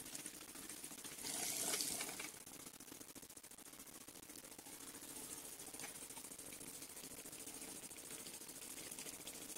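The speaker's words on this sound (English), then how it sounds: "This is the magnetic capsule stirring speed, minimum, maximum." A magnetic stirrer on a Karl Fischer titrator spins at maximum speed, giving a steady, even whir and hum with a brief louder swell near the start.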